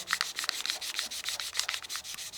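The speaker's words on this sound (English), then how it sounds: "now we can start sanding the surface" Quick back-and-forth rubbing strokes of sandpaper on a wooden whistle being turned on a lathe, a soft, close, rhythmic scratching with about a dozen pulses.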